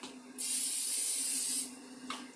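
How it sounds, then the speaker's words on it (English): A single steady burst of aerosol cooking spray hisses onto a pan for just over a second, close by, followed by quiet room tone. "Put a little pan spray there."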